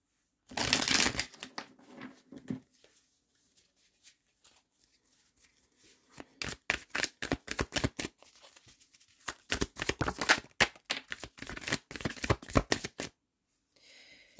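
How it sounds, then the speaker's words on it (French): Tarot cards are shuffled by hand in repeated bursts of crisp riffling and flapping, close and fairly loud, with short quiet gaps between rounds. "Je vais décaler un peu les cartes."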